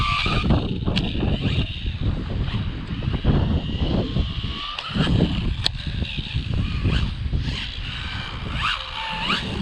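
A Rlaarlo AMX12 RC car on a 3S battery driving at full throttle, its high-pitched electric motor whining and surging with rough, gritty tyre and chassis noise close by for the whole stretch.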